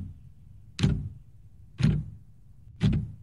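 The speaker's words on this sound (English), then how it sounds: "Well, that clock's loud." A loud clock ticks in the horror game Wardwell House, giving three heavy, evenly spaced knocks about a second apart over a low ambient hum. No voices.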